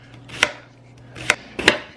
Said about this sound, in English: Start off with chopping up your onion.